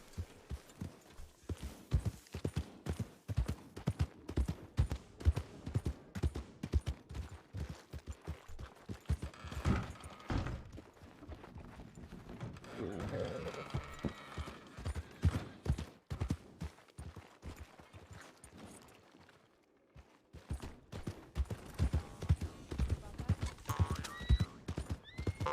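A horse in a Wild West roleplay game clip-clops at a steady gallop, close and loud, with occasional neighs, a short pause in the hooves, and brief talk over it.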